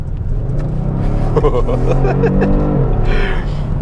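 A 2022 Kia Stinger GT1 twin-turbo V6 with an 8-speed automatic hums and revs up steadily from inside the cabin, a low continuous drone rising in pitch as it accelerates.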